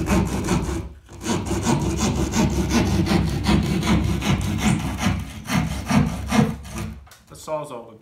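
A reciprocating saw cuts a hole during an AC duct replacement, a loud, rapid run of rasping strokes at close range that continues almost without a break.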